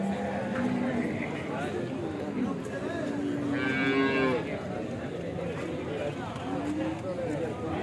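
A cow that has calved three times moos once, clearly and fairly close, at a weekly cattle market in Gorantla, while people talk nearby and other farm noises continue in the background.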